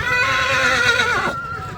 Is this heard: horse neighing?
yes